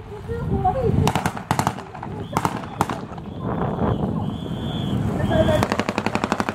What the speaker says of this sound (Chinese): 以车撞、机枪对敌实施火力制裁